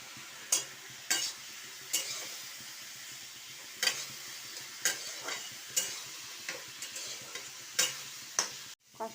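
Curry being stirred and sautéed in a pan, with a steady sizzle under repeated sharp scrapes and clinks of the spoon against the pan at irregular intervals, close and fairly quiet, no talking.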